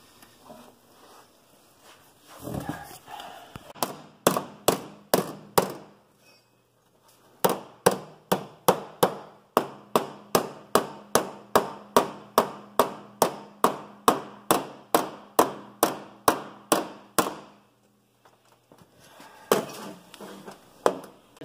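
Steady metallic hammer blows ring out in quick, even bursts on sheet metal for a patch panel, with short pauses between runs of strikes, close and loud.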